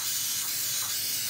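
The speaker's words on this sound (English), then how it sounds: "And you're going to spray your mat" Cleaner sprayed from a spray bottle onto a nail stamping mat, a steady close hiss of mist running the whole moment, alone with no talking.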